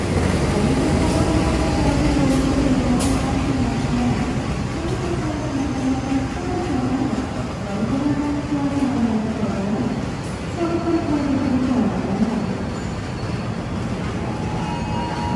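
The Blora Jaya economy train pulls out of Semarang Poncol station with a loud, continuous rumble and wheel noise, and a wavering tonal squeal rising and falling over it, heard up close from on board.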